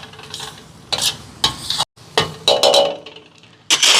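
Fried eggplant and potato are stirred into a string hopper kottu with a spoon, giving loud scraping, clinking strokes against the pan over a soft sizzle, with short pauses between the stirs.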